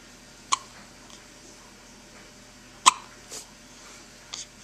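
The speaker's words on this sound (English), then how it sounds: "Hiccup, hiccup, hiccup, hiccup." A baby's hiccups: sharp, brief little jolts spaced irregularly, with a couple of fainter catches between them, close by in an otherwise quiet room.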